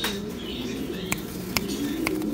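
A female pigeon coos softly in a steady low murmur, with several sharp clicks standing out above it and faint background hum throughout.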